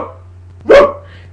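A person imitates a dog with one loud, close, gruff bark-like yelp, short and alone over a low steady hum.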